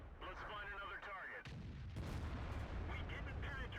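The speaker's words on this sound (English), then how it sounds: "I bounced off of the front of a heavy tank" A tank cannon shot bounces off the front armour of a heavy tank in World of Tanks, a loud booming blast followed by a sustained rumbling roar, with speech running alongside.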